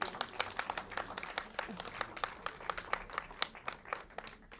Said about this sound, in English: One more round of applause for Borderline.